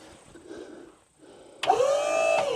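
Sawmill hydraulics straining to shift a stuck log: a low motor hum pauses, then a louder whining surge with a rising and falling pitch kicks in and holds steady.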